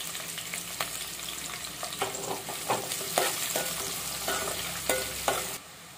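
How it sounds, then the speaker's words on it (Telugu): Cut onions and green chillies fry in oil for a gongura dried-fish curry, a steady close sizzle broken by repeated scraping strokes of a spatula against the pan before the sound cuts off. "ఈ ఆనియన్స్ బాగా ఫ్రై అవ్వాల్సిన పని లేదండి, కొంచెం వేగితే సరిపోతుంది."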